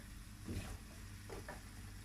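Garlic and onion sauté in a pan while bulgur pilaf is made, with a low, steady sizzle and a few soft stirring scrapes near the middle and end.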